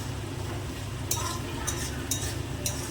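Onions browning in a pan while a mutton curry is prepared, a steady low sizzle broken by several sharp scrapes of a spoon stirring against the metal, close and moderately loud.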